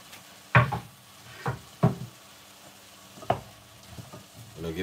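A pot of vegetable soup with spinach, avocado, broccoli and fresh basil being stirred, several sharp spoon knocks and scrapes against the pot over a low simmering background.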